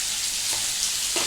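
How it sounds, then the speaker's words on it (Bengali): Potatoes frying in a pan for a Bengali-style niramish aloo dum, giving a constant close hiss of hot oil with a couple of soft stirring scrapes. "এবার কাজ হচ্ছে আলুটাকে খুব ভালো করে ভাজা।"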